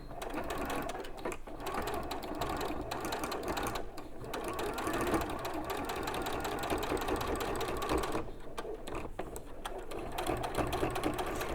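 A sewing machine runs steadily top stitching through several layers of a purse or pencil case with a 90 universal needle, a loud, even mechanical whirr broken by a few brief pauses.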